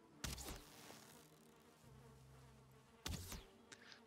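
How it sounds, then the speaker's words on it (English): Bees buzz in the survival video game Valheim, with two loud, short buzzing bursts near the start and near the end over a faint, steady background hum. "I can hear more bees, it's right there"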